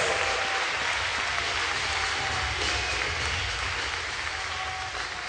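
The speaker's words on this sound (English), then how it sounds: "Let's give a loud round of applause for these warriors for the first fight of the evening." Applause for the boxers after the first fight at an armed forces boxing event rolls on continuously, a dense even clatter of many clapping hands from a large crowd that fades slightly toward the end.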